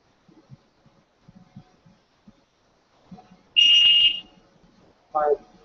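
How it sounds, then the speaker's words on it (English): Two electronic beeps from a BGA rework station: a long steady high tone, then a shorter lower one, after quiet clicks and faint handling sounds as a component is placed. "Our machine beeps telling us that we're all the way down."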